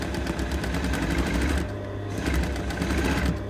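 A sewing machine stitches a seam while taping a neckline, running steadily and close with a rapid rhythmic needle clatter that briefly eases mid-clip before picking back up.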